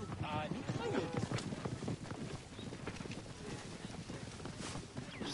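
Horse hooves clip-clop in the video game Assassin's Creed Origins, a quick irregular patter of hoofbeats at a gallop under ongoing game sounds and voices talking over it.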